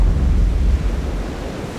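Big waves pound against a pier in strong wind, heard as a loud, continuous broadband roar of surf and gusting wind buffeting the microphone, with no clear separate crashes.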